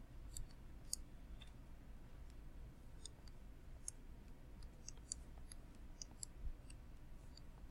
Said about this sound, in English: So all I have to do is type this whole thing in my calculator.